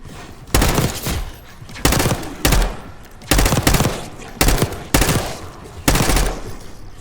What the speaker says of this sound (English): You hearing gunshots?